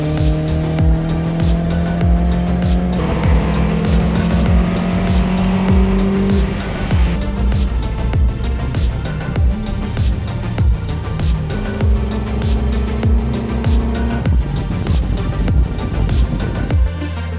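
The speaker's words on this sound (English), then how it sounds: "this new version of the Yaris got to hit the track for the first time" Toyota Yaris race car fitted with a limited-slip differential lapping Las Vegas Motor Speedway, its engine loud and close as it revs up and drops through gear changes, with tyres squealing through the corners.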